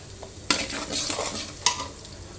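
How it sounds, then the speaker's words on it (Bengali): Green chilies and chopped onion fry in a pan, a steady bright sizzle broken by two sharp scrapes of a spoon stirring, close and with no talking. "কাঁচামরিচ পেঁয়াজটা ভাজা হয়ে গেলে আমি সবজিগুলো দিয়ে দেব"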